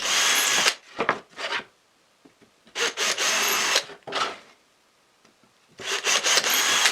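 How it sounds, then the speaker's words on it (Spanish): Power drill boring screw holes into a wooden router table board, three loud whirring bursts of a second or two each, separated by quiet pauses with faint handling clicks. "voy a hacer ya los agujeros para los tornillos"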